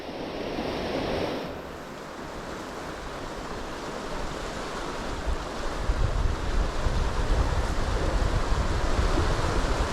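Ocean waves wash onto the shore at dawn while a strong tide runs further out. The surf gives a continuous broad rushing roar that swells louder toward the end, with wind buffeting the microphone and no talking.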